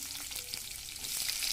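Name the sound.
tempering seeds frying in hot oil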